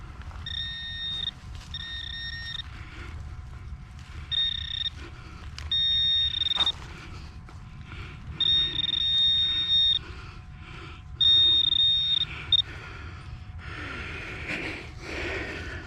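A handheld metal detector that has been giving trouble beeps over a buried target at an old country club. Steady electronic tones come in short repeated bursts and longer held beeps over a low background rumble.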